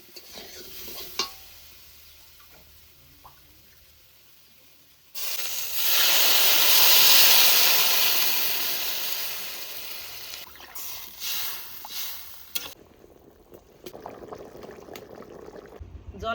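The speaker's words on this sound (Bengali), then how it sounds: "আলু ভালো করে ভেজে নিয়েছি এবার জল দিয়ে দেবো" Water poured into a hot pan of fried potatoes sets off a sudden loud rushing hiss of steam that gradually fades, after quieter stirring and clinks, with scraping afterward.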